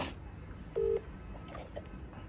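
A single short electronic tone on a phone call that goes unanswered, heard once and fairly faint over a quiet room hum.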